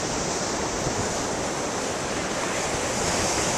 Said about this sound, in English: Ooh, some magnificent waves over there.